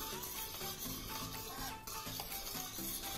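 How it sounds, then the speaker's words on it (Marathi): Flour stirred into boiling veg Manchurian sauce gives soft, quiet stirring and bubbling, with faint tonal sounds in the background and no voices. "त्यामध्ये आपण हे पीठ घालूया आणि हे छान मिक्स करून घेऊया"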